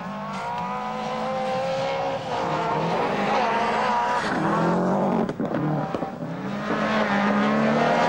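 A Subaru rally car driven hard on a gravel stage at Rally New Zealand 1996, its engine loud and close with rising and falling revs, gear changes and tyre scrabble carrying through the whole stretch.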